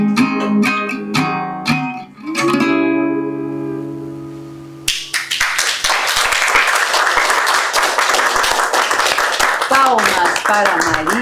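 An audience applauds a singer after her song at a National Troubadour Day event; a sung, sustained musical ending gives way to dense, continuous clapping that carries on steadily.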